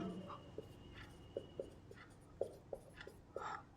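Writing a maths derivation on a board produces a series of short taps and strokes in an uneven rhythm, close and quiet, with faint low voice murmurs at times.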